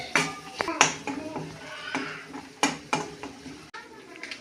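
Chicken is mixed with ground masala paste in a cooking pot. Spoon knocks and wet scrapes come in irregular close bursts, with a few sharper clanks against the metal.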